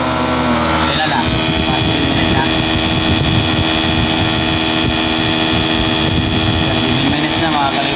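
Daikin air conditioner unit that keeps shutting off every seven minutes, running with a steady loud mechanical hum and tonal whine, with voices talking over it.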